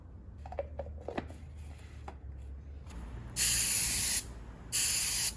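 Spray gun fed by a compressor spraying thinner during plastic bumper restoration on a Golf GTI Mk5, two loud sustained hissing bursts close by, the second shorter, after a quieter stretch of faint knocks and background hum.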